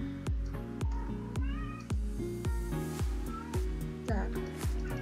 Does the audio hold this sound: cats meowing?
yes